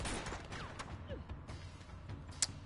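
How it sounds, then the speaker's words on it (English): Gunfire in the video game Uncharted 2: Among Thieves, scattered sharp shots and bursts coming from several directions, fairly faint, with brief in-game voices mixed in. "Lots of gunfire from every direction."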